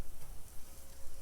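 Philly cheesesteak meat sizzles steadily on a Blackstone griddle, a continuous broadband frying hiss that stays loud and even throughout, with no voices.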